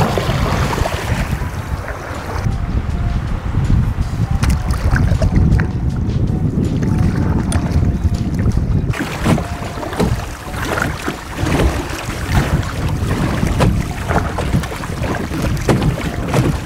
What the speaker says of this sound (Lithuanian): Reikia irkluot.